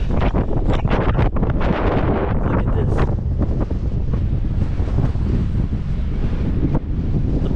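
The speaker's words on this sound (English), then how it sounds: "Guys, oh my God, it's so windy." Strong wind at the summit of Clingmans Dome buffets the microphone in a constant loud roar, with gusty thumps and rumbles throughout and no voices.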